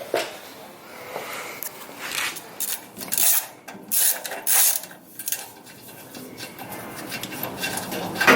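Ratchet working on skid plate bolts under a 2018 Toyota Tacoma TRD Pro, rasping back-and-forth clicks and scraping metal in uneven strokes, close and fairly loud.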